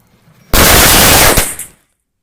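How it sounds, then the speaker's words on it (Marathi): Firecrackers at a wedding going off in a dense rapid string of bursts, very loud and close, crackling continuously for about a second before stopping abruptly into silence. "तिथे गेल्यावर मस्त छान प्रकारे आम्ही फटाके वगैरे फोडले"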